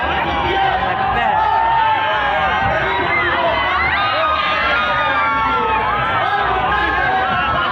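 A huge, dense crowd at puja pandals fills the air with constant cheering, shouting and overlapping voices, loud and close, a packed festive roar with children's shouts rising above the babble.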